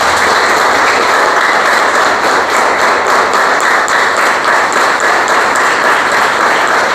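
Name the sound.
church congregation applauding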